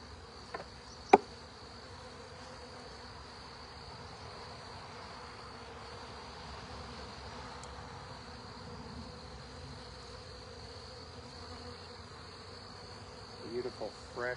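Honey bees buzzing around an opened hive during an April hive inspection, a steady faint drone with a few sharp clicks of handling near the start and end.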